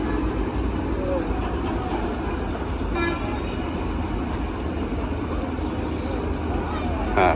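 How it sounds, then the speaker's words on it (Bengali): A sand-carrying trawler boat on the Turag River near Ashulia gives a brief horn toot over a constant broadband engine drone and water noise, heard from nearby. "ট্রলারটি বালু নিয়ে যাচ্ছে।"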